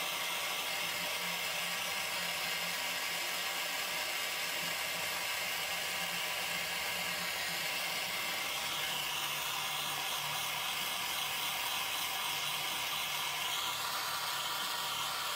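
A jeweller's torch heats solder on the seam of a hollow ring band, giving a steady, fairly quiet broadband hiss and roar that runs unbroken and alone throughout.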